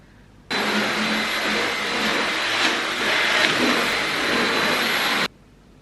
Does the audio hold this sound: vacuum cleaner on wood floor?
yes